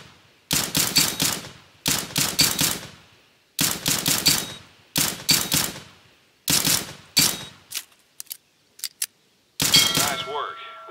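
Counter-Strike: Global Offensive training-range gunfire comes in loud, close bursts of rapid automatic shots separated by short pauses, followed by a few single shots and a metallic ring.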